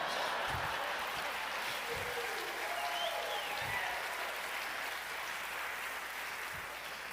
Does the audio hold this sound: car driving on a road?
no